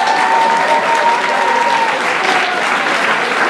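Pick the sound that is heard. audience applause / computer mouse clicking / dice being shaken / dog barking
audience applause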